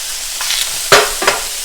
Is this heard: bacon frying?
yes